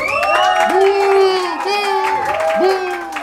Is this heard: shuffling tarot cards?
no